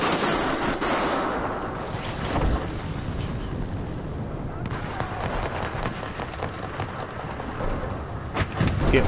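Enemy gunfire in Battlefield 4 rattles as dense, continuous bursts and booming rumble, loud and sustained across the whole stretch.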